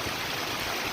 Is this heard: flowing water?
yes